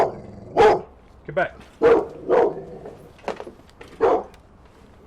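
A dog barks in several loud, separate bursts at people nearby, while a person speaks briefly between the barks.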